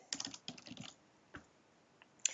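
Fast typing on a computer keyboard while filling in an Excel spreadsheet: a dense burst of key clicks, then a pause and a few isolated taps, close and crisp in a quiet room.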